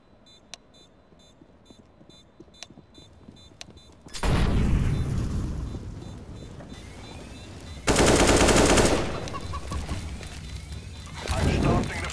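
P90 submachine gun fire in the game CS:GO, heard as loud, dense bursts of rapid automatic shots after a quiet stretch with faint ticks, with one burst near the end.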